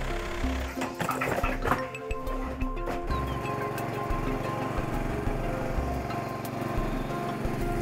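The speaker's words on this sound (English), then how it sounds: "a small field-employable caterpillar, or so-called dumper, is used" A small tracked caterpillar dumper runs its engine continuously close by, a loud chugging drone with metallic clanks and rattles in the first few seconds, then a steady idle-like rumble.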